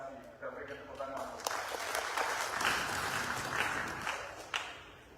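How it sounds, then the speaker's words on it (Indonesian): An audience claps at a ceremony installing the officials of a regional sports committee. The applause swells to a sustained roar and then fades, with a voice speaking over it. "Kita berikan tepuk tangan."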